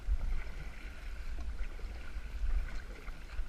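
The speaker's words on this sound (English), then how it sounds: "I'm gonna paddle hard to try to get us back on the track" Kayak paddling on water, soft rhythmic splashes and water swishes from paddle strokes, close and fairly quiet, with no voices.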